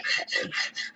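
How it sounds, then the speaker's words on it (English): A metal spatula scraping the inside of a crock pot after a chuck roast, five quick rasping strokes in a regular back-and-forth rhythm, close and harsh with short pauses between them. "I'm going to scrape so we get it all up."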